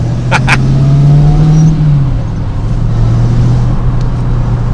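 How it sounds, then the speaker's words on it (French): A TVR Griffith 430 engine revs up loud and close from the cabin, a deep steady drone that rises in pitch and then settles, with a brief click near the start. "On peut monter dans les tours, on peut écouter son filet de musique, c'est génial."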